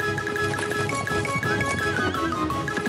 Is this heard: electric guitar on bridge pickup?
no